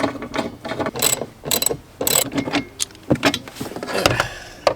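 A ratchet works screws loose during car repair, rapid clicking pawl bursts in short repeated runs with brief pauses between them, close and fairly loud.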